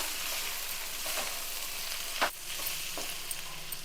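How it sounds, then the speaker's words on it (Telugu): Raw prawns stirred into a pan for prawn fried rice with egg, a soft steady sizzle broken by a few sharp spatula clinks. "అలాగే వేసిన పచ్చిరొయ్యలు కూడా వేసుకొని ఒకసారి కలుపుకుందాం."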